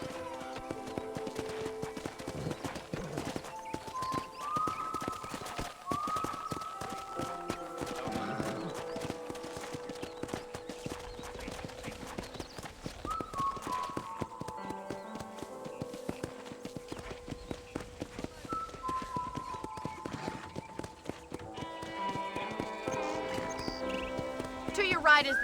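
Rhythmic horse hooves clip-clopping at a walking pace in the video game Red Dead Redemption, over layered music and a voice talking, with a horse whinny in the mix.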